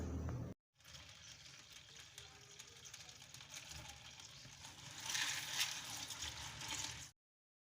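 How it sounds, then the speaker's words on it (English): Water runs steadily over two cups of soya beans being washed, a continuous close splashing wash that swells louder toward the end after a brief silent gap at the start. "I will start by washing the beans"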